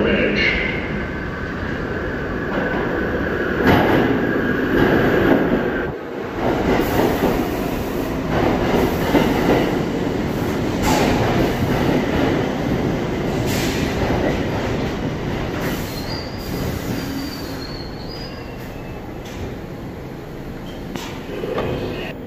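An MTA R62A 1 subway train pulls into the 6th Street station, a loud sustained rumble with rail clatter and squealing brakes. Station announcements play over the noise.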